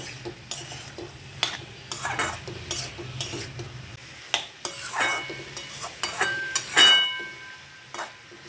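Banana stem and onion are stirred in a pan, a spatula scraping and clinking against the metal in irregular strokes over a faint sizzle, close and fairly quiet.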